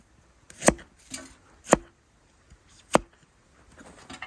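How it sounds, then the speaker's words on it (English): A knife chopping ginger on a board outdoors, four sharp, close thunks at uneven intervals with brief quiet between them. "we're just gonna chop up some herbs. This is ginger."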